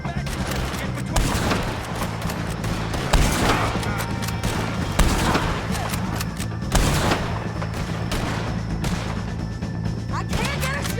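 Chaotic gunfight in Red Dead Redemption 2 against O'Driscoll gang members, with rapid overlapping shots, sharp cracks and heavy booms crowding together under shouted voices.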